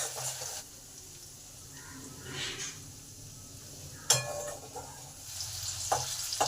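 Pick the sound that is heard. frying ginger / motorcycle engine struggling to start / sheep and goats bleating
frying ginger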